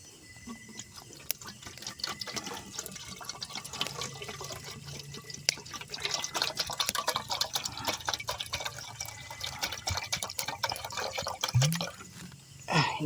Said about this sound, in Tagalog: Ini tadag tubig guys.